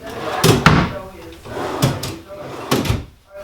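A drawer on KV ball bearing drawer slides is shut three times in a row, each a close, solid thump with a short rolling slide, with a voice speaking between them.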